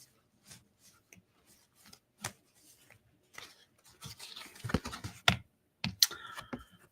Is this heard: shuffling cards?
yes